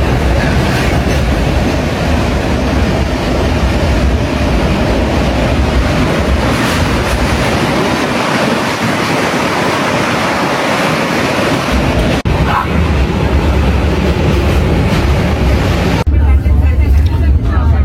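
A long-distance express train rolls across the Godavari river bridge, its steady loud rumble and rushing wind roar running continuously near the carriage, with brief shifts in tone near the end.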